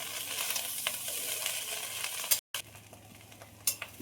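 Fried rice, with a little sugar, chopped coriander and spring onion leaves, stirred in a frying pan: a steady sizzle with scraping stir strokes, a short break near the middle, then more frying and a sharper clink near the end, with no talk.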